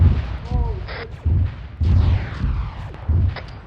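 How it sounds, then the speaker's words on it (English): Sharp gunfire bursts and booms in a military video game, snipers firing from a building, several shots spaced through the clip amid battle noise and low rumble. "people are sniping from the building"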